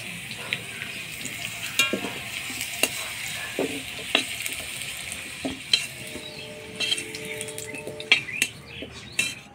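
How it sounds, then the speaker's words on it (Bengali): Potatoes frying in a pan while being stirred for a Bengali Kashmiri chhana curry, a steady close sizzle broken by sharp scraping clicks of the spatula through the whole stretch, with no talk. "আলুগুলো একটু লাল করে ভাজে নিলাম।"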